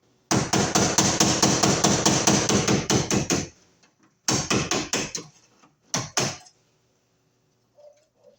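Metal tool strikes hammer against an MC cable connector to knock it loose: a rapid run of about a dozen sharp, loud close blows, a pause, a shorter burst of four, then two final hits.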